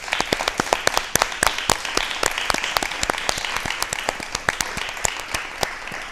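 Dense, steady audience applause on a Rajasthan television talk show for a Yoga Day special, with many sharp claps forming a loud, continuous wash for about six seconds and no voices over it.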